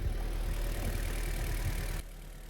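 Honda CRX EE8 with a B16A1 engine idling, a steady close rumble that drops abruptly to a quieter low hum near the end.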